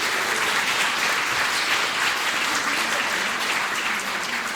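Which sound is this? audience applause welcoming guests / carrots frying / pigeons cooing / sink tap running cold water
audience applause welcoming guests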